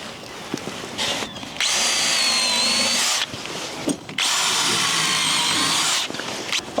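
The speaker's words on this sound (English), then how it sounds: "we're obviously testing the drill to go through and pre-drill all the timber" A Bosch 18V cordless drill bores pilot holes into timber on an outdoor job site, whining loudly in two long sustained runs split by short pauses and a few knocks.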